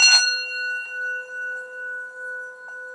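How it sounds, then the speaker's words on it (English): A singing bowl struck once, giving a bright metallic attack that settles into a sustained, pure ringing tone with a slow pulsing wobble as it fades. "I get the singing bowl going"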